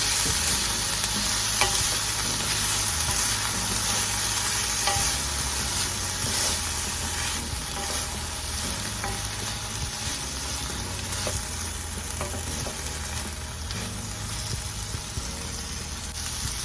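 Vegetables for low-carb shrimp tacos sizzle and fry in a pan while being stirred, a steady loud crackle with scraping strokes throughout, no talking.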